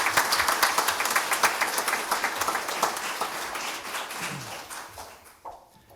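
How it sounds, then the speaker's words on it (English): Applause from a seated crowd at a town first responder awards ceremony, steady clapping that gradually thins and fades toward the end, with a few last scattered claps. "A round of applause for the County Legislator."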